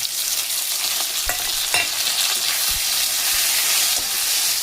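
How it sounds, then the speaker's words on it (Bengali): Ground spice paste with salt, turmeric, sugar, cumin, ginger and green chilli sautéing in a pan for an ilish fish-head cabbage dish, a steady loud sizzle broken by several sharp scraping stirs, no talk. "এইগুলোকে এগুলোকে বেশ সুন্দর করে দেখুন আমি কষিয়ে নেব"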